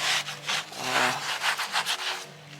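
Scotch-Brite pad scrubbing a dirty garden fountain, producing rapid rhythmic rasping back-and-forth strokes, close and fairly loud, about a dozen strokes in quick succession.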